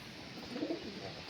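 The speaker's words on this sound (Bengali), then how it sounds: "এ হচ্ছে পায়রার কোয়ালিটি, দেখে নাও।" A Punjabi Malwai pigeon gives a single low, soft coo over faint background noise, with no talking.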